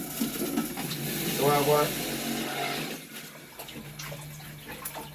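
Electric juicer machine running as cucumbers are fed through, a continuous close whirring and watery grinding with someone speaking briefly over it.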